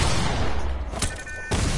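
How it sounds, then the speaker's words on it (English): Impulse grenades exploding in a video game, loud sharp bursts in quick succession with a crisp crack near the middle and another at the end, over a continuous rumbling background. "Don't just spam what? The impulse grenades."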